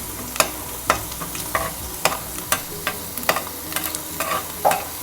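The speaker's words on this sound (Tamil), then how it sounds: "ஃபுல்லாக பட்டர் உருகினதுக்கப்புறம் அதில் பிரிஞ்சியில் 2 எடுத்து வச்ச அந்த லவங்கம், பட்டை, ஏலக்காய் அதெல்லாம் போட்டுட்டு லைட்டாக ஃப்ரை பண்ணுவோம்." Bay leaf, cloves, cinnamon and cardamom fry in melted butter under a steady soft sizzle while a spoon stirs the pan with regular scraping taps, close and clear with no voices.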